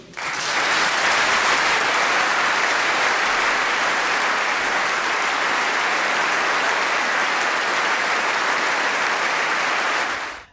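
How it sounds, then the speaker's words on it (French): Belgian parliamentary assembly applauding King Philippe's speech with dense, sustained clapping from a large crowd that holds steady for about ten seconds before cutting off, with no voices audible. "Très longuement applaudi par l'Assemblée"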